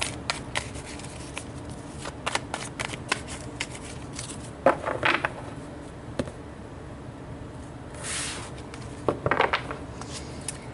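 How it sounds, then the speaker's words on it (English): Tarot cards shuffled by hand, a run of close crisp riffling and flicking bursts, with a few louder clustered shuffles partway through. "So let's pull some tarot for you guys."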